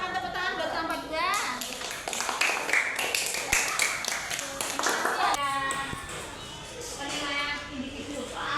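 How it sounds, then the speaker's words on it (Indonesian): Students clapping in a classroom for a student group after its presentation, a lively patter of hands mixed with children's chatter and a teacher's voice over several seconds. "Silakan tepuk tangan buat kelompok 2."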